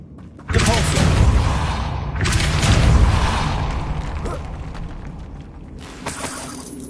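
Spell impact in the fantasy video game Hogwarts Legacy, a Depulso cast landing as a loud booming thump with a rumbling, crashing tail that fades over several seconds, followed by a softer second hit.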